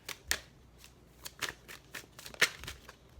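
Tarot cards being shuffled by hand in a series of quick crisp riffles and flicks, close and fairly quiet, with a sharper snap near the end and no talking.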